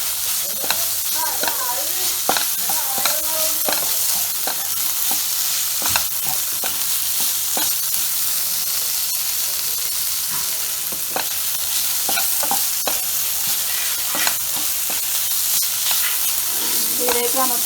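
Onions sauté in a pan for Kerala-style beef roast as turmeric is added, a steady bright sizzle with repeated scraping stir strokes and clinks of a spoon throughout.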